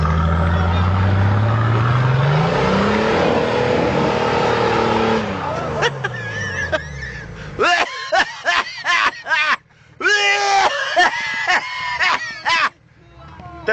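A smoking Nissan car engine revs loudly and rises in pitch over several seconds, then falls away as people talk and laugh nearby.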